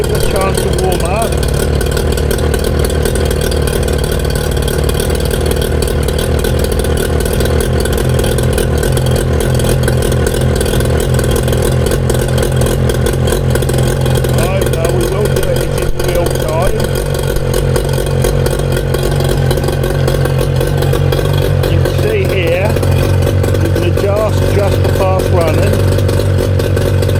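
A Mariner 25hp two-stroke outboard motor runs steadily while warming up, a loud, close, continuous buzzing drone with a faint splutter from the telltale, as someone talks over it.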